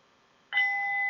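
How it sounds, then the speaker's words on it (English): During a restorative yoga session, after a short quiet moment, a single bell is struck and rings out clearly, its bright tone sustaining evenly as it slowly fades. "Listening to the sound of the ringing bell"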